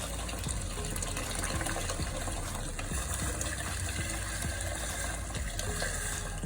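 Hot water pours into a cooking pot of fried rice with chicken stock, a steady, loud, close gushing that runs unbroken throughout, with no talk over it.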